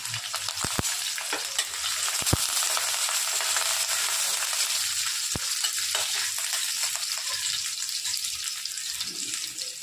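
Onion and curry leaves fry in hot oil for rava idli, giving a continuous close sizzle broken by several sharp spoon clicks against the pan; no voices are heard.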